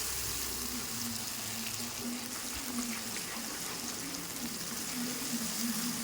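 A spice paste with tomato for a vegetarian jackfruit curry fries over a low gas flame, making a faint, even sizzle that stays quiet and steady throughout.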